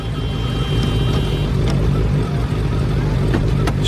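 A motorcycle engine holds a steady, fairly close low drone with no break, joined by a few faint higher clicks and no talk.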